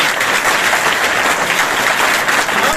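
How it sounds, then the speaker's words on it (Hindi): A seminar audience in Rohtak gives a loud, dense round of applause, many hands clapping steadily and evenly close by without a break. "यहाँ एक बार आरसीएम वालों के लिए जोड़ता ताली बजाई"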